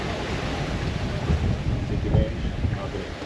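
Steady roar of strong wind buffeting the microphone on a sailboat at sea bound for the Canary Islands, with water rushing and sloshing against the hull throughout, loud and continuous with no talk.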